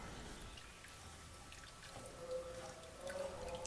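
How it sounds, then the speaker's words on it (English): Maize porridge in water bubbles on high heat, a soft irregular patter of small pops and drips heard close and quiet, with a few sharper plops toward the end. "continue stirring while on high heat until everything starts to boil"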